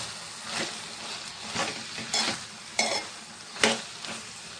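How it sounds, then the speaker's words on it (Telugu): Thorn brinjal frying in a pan, stirred in a series of soft scraping strokes over a steady sizzle, close and moderately loud with no talk. "ఇప్పుడు దీంట్లో సాల్ట్ వేసుకొని కలుపుకుందాం."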